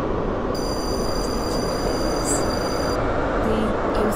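Five-coach passenger train running in the Roblox rail game SCR on the Stepford Central to Port Benton route, a continuous loud rolling rumble with a thin high-pitched tone above it for a few seconds.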